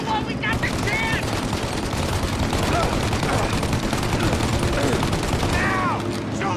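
Dense, continuous gunfire rattles through a Mafia: Definitive Edition shootout, loud bursts layered with shouted voices over a constant roar of shots.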